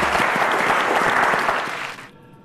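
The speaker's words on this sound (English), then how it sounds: "a round of applause for Fabian" Loud audience applause at a televised quiz show, dense clapping from a studio crowd that holds steady then fades and drops away near the end.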